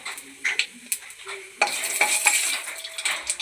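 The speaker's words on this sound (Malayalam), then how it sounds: "നമ്മുടെ ഓയിൽ ചൂടായിട്ടുണ്ട്, അതിലേക്ക് കുറച്ച് വലിയ ജീരകം ചേർത്ത് കൊടുക്കാം." Fennel seeds are added to hot oil in a pan, giving a bright crackle and sizzle along with scrapes and clinks of a spoon stirring against the metal, close up and without speech.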